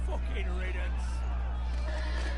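A horse neighing in the Telltale Game of Thrones video game, a shrill whinny over a steady low hum with some background chatter and faint hoof sounds.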